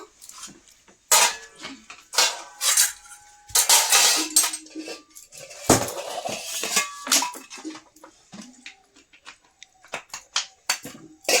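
Rice is served onto a plate in a home kitchen, with irregular bursts of metal and ceramic clinks and scrapes from a serving spoon and dishes. The sounds are close and loud at times, with quiet gaps between them and no talking.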